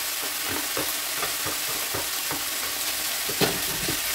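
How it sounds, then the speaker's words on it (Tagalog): Sausage with onions frying in a pan, giving a steady broadband sizzle with soft scraping stirs and an occasional sharper clatter, close and alone with no talking. "Ilagay na natin yung ating sausage."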